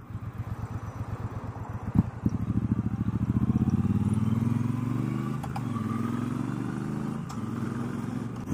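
A 2019 Triumph Bonneville Bobber Black motorcycle rides along with a loud, steady engine drone that rises in pitch as it accelerates through gears, with brief dips at shifts, close and dominant throughout.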